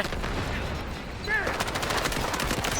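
SMG gunfire in the Delta Force video game sounds as rapid bursts of close, loud shots over constant game noise, with a voice talking briefly partway through.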